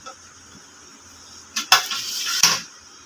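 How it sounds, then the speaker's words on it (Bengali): Coconut stirred into malpua batter: a quiet spoon scraping and clinking against a bowl, with a couple of louder metallic scrapes toward the end, close and brief, no talking. "নারকেলটা মিশিয়ে দেব"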